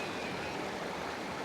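Dense, steady rushing of fast-moving floodwater in Karaitivu, Jaffna, continuous and fairly close, with no voices.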